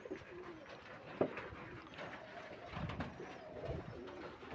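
Pigeons, including a pied Jaros-type bird, coo in soft, low, repeated calls close by, with a few louder coos standing out and no talking.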